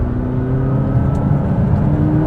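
McLaren 570S engine pulling hard in second gear through a sharp turn, a steady loud whirring drone with rising tonal harmonics heard from inside the car, no voices.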